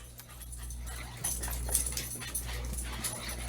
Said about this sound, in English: I'm sorry if you hear my puppies below me here carrying on and breathing heavy.